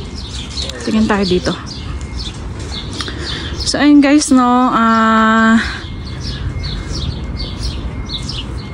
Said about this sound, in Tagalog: Ang cute ng ibon